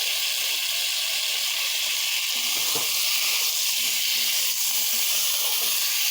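Vegetables (kohlrabi and potato) frying with spices in a pan for a prawn curry, giving a steady loud hiss and sizzle throughout with faint clinks, no talking.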